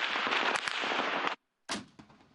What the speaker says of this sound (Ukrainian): Тому командири віддають наказ стріляти у відповідь.